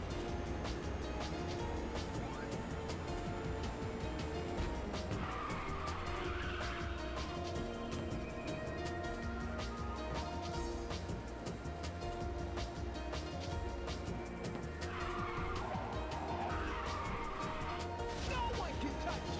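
A race car skids in Ridge Racer 2, with a steady engine roar and tire squeals swelling twice over continuous game sound, loud and unbroken, with some voice mixed in.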